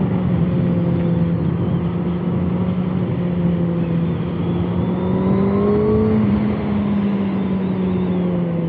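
A Kawasaki ZX6R 40th Anniversary 2024 sport motorcycle engine drones steadily while riding, the sustained tone rising and falling slightly with throttle, heard close over constant wind rush with no speech.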